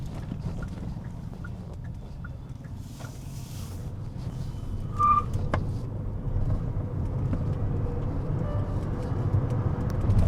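Hyundai Creta EV accelerating in sport mode, a steady low electric drivetrain and road hum that builds slightly partway through and holds, with faint tyre and cabin noise and no talking.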